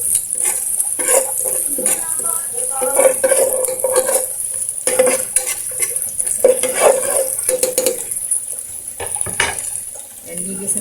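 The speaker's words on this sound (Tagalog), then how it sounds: "gigisan natin yan ng maigi" Steady sizzling from a hot pan with scraping and stirring, utensils clinking against the pan throughout, and brief bursts of voice in the background.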